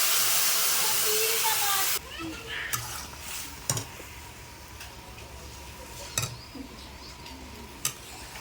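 Dal poured into hot oil tempered with dry chillies and cumin: a loud hissing burst of sizzle for about two seconds, then quieter bubbling with occasional spoon clinks and knocks against the pot.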